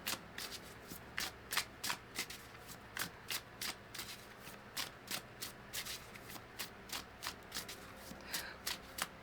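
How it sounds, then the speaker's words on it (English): A deck of oracle cards is shuffled by hand in a quiet room, giving a close, steady run of crisp riffling bursts at a regular rhythm, with no talking. "Let's get an oracle card here."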